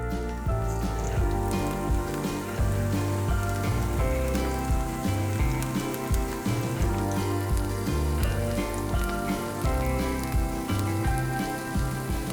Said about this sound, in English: Once your oil is sizzling, spoon in our zucchini mixture